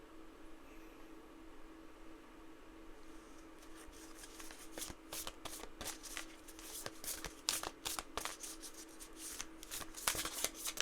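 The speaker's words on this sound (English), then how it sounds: "Let's pull one of my Soulful Woman Oracle cards." Soulful Woman Oracle cards being shuffled by hand, a soft steady riffle and slide of card stock that grows busier and louder after a quiet start, with no talking over it.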